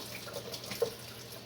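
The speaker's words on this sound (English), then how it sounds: "Make sure it's cold water you put in it, in the jar" Cold water trickles from a tap into a mason jar in a home kitchen, a soft steady running sound with one brief brighter splash midway, fairly quiet and with no talking.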